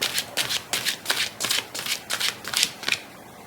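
A deck of tarot-style reading cards is shuffled by hand in a run of about ten quick riffling bursts, crisp and close, with no talking.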